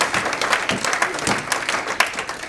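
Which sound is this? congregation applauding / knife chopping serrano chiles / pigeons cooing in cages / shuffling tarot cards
congregation applauding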